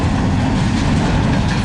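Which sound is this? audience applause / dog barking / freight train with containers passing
freight train with containers passing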